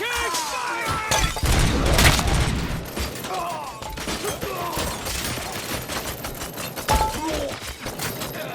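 Gunfire in the RoboCop Rogue City video game rattles in dense, repeated bursts with crashing impacts, loud and continuous, while voices shout over the fighting.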